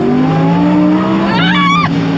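A Lamborghini with all-wheel drive accelerates hard, its engine note climbing steadily through the gears, loud and close from inside the cabin, with a brief tire chirp near the end.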